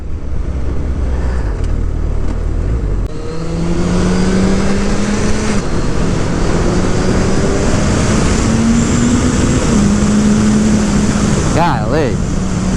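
A 2023 Suzuki Hayabusa sport motorcycle on the road, its engine note climbing as it accelerates through the gears with rising pitch sweeps, heavy wind rush around the rider, and someone talking over the ride.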